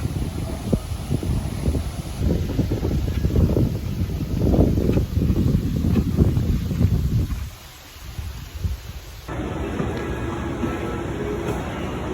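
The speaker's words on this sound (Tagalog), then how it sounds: "Mahangin dito kaya." Strong gusty wind buffeting the microphone, a steady roaring rumble that briefly drops away before a thinner wind noise returns.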